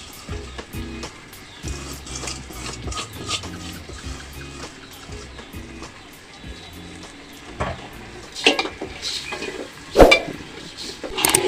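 Rice and lentils being fried in a pot for bhuna khichuri, a soft low sizzle with scraping stirs and occasional clinks of a spoon against the pot, growing louder toward the end, with people talking.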